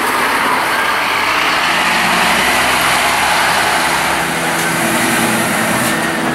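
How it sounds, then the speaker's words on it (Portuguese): A Volvo bus engine brake at the Tietê bus terminal in São Paulo, a loud, steady, close-up mechanical roar that holds without a break throughout. "cheiro é Volvo, pelo barulho ali do freio motor"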